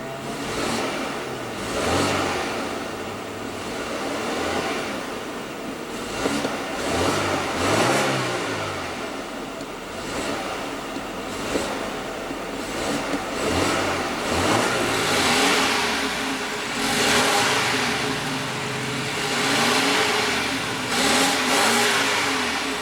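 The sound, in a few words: 2016 BMW 4 Series Convertible 2.0L turbo four-cylinder engine revving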